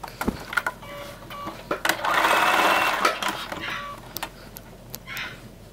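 Sewing machine stitching a seam on a pajama set, a steady whirring run of about a second in the middle, with brief clicks and handling sounds before and after, close and fairly quiet.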